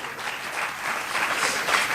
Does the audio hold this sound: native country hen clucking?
no